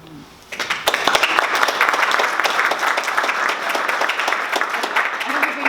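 An audience at an academic symposium claps steadily after a brief quiet moment, a dense, even applause that holds without fading.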